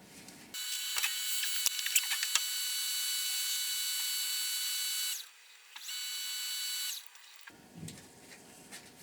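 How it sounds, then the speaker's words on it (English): A wooden honey pot is buffed on a running machine, a steady high-pitched whir that holds for several seconds, drops briefly, resumes, then stops, with scattered taps at the start. "then I'm going to buff it and put probably carnauba wax on this"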